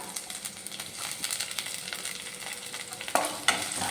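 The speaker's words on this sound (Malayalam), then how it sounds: "ഇനി നമുക്കതിലേക്ക് എടുത്തു വച്ചിരിക്കുന്ന സവോള ചേർത്ത് കൊടുക്കാം. ആ കൂടെ 2 പച്ചമുളക് കീറിയതും കൂടെ ഇട്ട് കൊടുക്കാം." Sliced onions and two split green chillies frying in a pan, a busy crackling sizzle with frequent scraping stirs and a couple of sharp metallic clinks near the end, close and loud, no speech.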